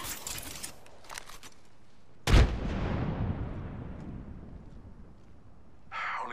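A frag grenade explodes in a video game with one loud, sudden boom whose rumble fades over several seconds, preceded by scattered bursts of gunfire and followed by a brief rush of noise near the end.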